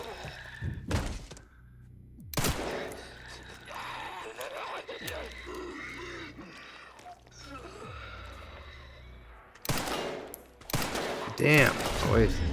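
Gunshots ring out in the video game Resident Evil 9: a few sharp, isolated blasts spaced several seconds apart, with a tighter cluster near the end, over low in-game ambience and thuds.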